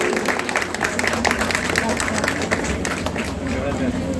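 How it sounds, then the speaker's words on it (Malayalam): An audience applauds a student being honoured at a Pongala festival gathering in Delhi, a dense steady patter of many hands, with voices murmuring through it. "ഒരു ബിഗ് അപ്ലോ പോരാ, നല്ല കയ്യടിയോടുകൂടി."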